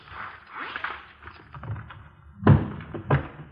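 In a radio police drama sound effect, a gun is set down on a desk, giving a solid, close thud followed by a second lighter knock a moment later, with faint room noise before.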